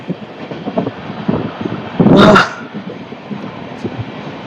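Steady rumble and clatter inside a moving carriage of the Rani Chennamma Express train between Tumakuru and Dharwad, with a brief louder whoosh partway through; no talking.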